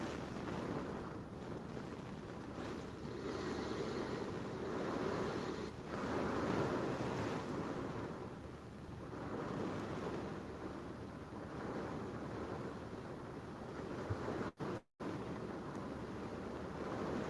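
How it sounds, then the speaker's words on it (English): Strong hurricane wind in Mandeville, Jamaica roars and buffets the microphone in a loud, continuous broadband rush that swells and eases, with a sharp thump near the end and no speech. "The wind actually just really picked up."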